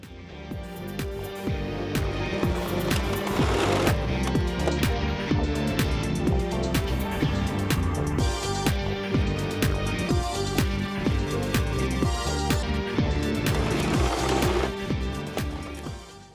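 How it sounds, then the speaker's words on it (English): A sewing machine runs continuously, stitching the sides of a cloth face mask with a dense, rapid, steady whirr. It is close and loud throughout, with no voices. "Now by feel again, I will sew the left side and the right side so it does not move."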